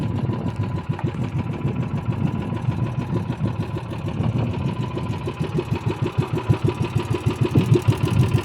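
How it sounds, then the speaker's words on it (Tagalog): A small engine with a clogged, damaged carburetor misfires as it is revved, running with an uneven, sputtering pulse that grows rougher and more choppy toward the end, close and moderately loud. "Pag tinaas mo siya nagapalya pa, palyado pa siya sa pag tinaas mo."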